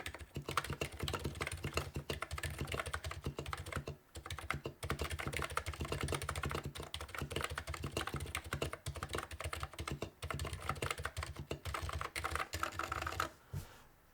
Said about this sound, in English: I'm actually typing words.